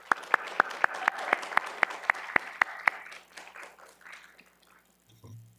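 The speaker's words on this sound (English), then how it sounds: "give a round of applause to our family" A few sharp, evenly spaced hand claps at a college radiologic technology pinning ceremony, roughly a dozen close crisp claps over three seconds in a hall, then fading into quiet room tone.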